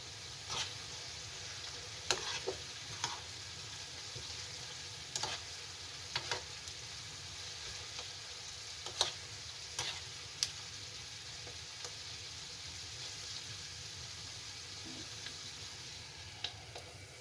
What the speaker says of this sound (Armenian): Մի քիչ էլ թող տապակվի և գազօջախի տակը արդեն կանջատենք